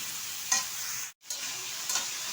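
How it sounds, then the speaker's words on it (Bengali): Okra sizzles steadily in hot oil in a pan, a continuous close frying hiss broken by a couple of short stirring scrapes and one brief gap, with no voices. "আমি আগে ভিন্ডিটা তেলের মধ্যে দিয়ে দিলাম"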